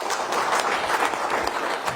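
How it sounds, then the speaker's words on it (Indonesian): An audience at a business opportunity seminar claps for a couple of seconds, with brisk, dense applause from many hands, close and fairly loud throughout. "Pak, berikan aplaus Bapak."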